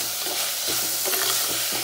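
Chopped tomatoes and sliced onions sauté in a pan for an instant fish curry, giving a continuous close sizzle with faint stirring scrapes.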